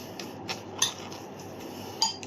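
Siomai filling with carrot mixed in a bowl, producing a few light scattered clinks and scrapes of a utensil against the dish, quiet and close with no talking.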